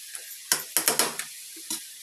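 A spoon scrapes and clatters against a pan while chicken curry is stirred, giving several sharp, close knocks in quick succession and a lighter tap after them, with no voices.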